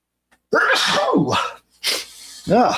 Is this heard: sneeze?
yes